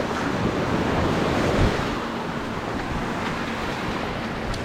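Strong ocean waves surge around a boat at sea, a loud, continuous roar of surf mixed with heavy wind buffeting the microphone, with a faint engine hum underneath.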